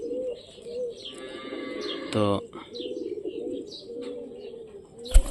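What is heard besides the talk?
pigeons cooing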